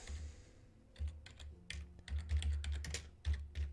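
Quick keystrokes on a computer keyboard, a short burst of irregular clicks with brief pauses, close and quiet.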